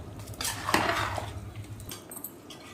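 A lid is set onto a pot of mushroom biryani made with ordinary rice, sealing it for dum cooking. It gives a few close metallic clanks and scrapes over low kitchen hum, then settles into quieter background.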